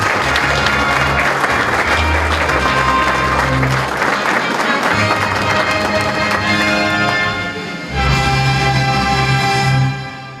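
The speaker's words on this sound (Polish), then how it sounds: "poproszę o fanfary i brawa dla nieobecnego mistrza" Applause at a sports awards gala for an absent champion, steady loud clapping from a hall audience filling the whole stretch, with a brief dip and renewed swell near the end.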